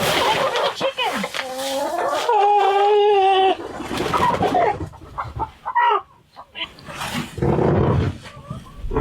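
Chickens in a warm greenhouse on a snowy homestead cluck and call in short bursts with gaps between them, close by, with some drawn-out tonal squawks partway through.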